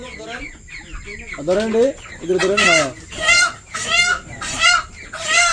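Village chickens being handed over for sale cluck and squawk loudly and close in repeated bursts while people talk nearby.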